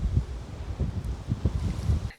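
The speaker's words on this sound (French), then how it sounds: "On va essayer de pas s'envoler, parce que là c'est atroce le vent." Strong wind blows outdoors, buffeting the microphone in repeated low rumbling gusts that rise and fall, loud and close, with no speech.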